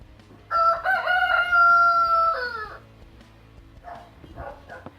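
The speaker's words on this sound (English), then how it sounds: "there's a free range chicken here" A free-range rooster in Shkodër, Albania crows once, loud and close, a long drawn-out call followed by faint background noise and no talking.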